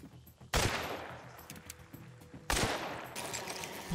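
Gunfire rings out in the first-person game Hunt: Showdown: two loud, sharp shots about two seconds apart, each followed by a long echoing tail and faint scattered noises in between.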